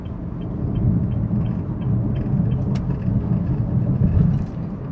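A Honda Brio E CVT on slightly oversized racing wheels accelerates to overtake, its engine and road noise forming a steady, loud low rumble that swells a little near the end.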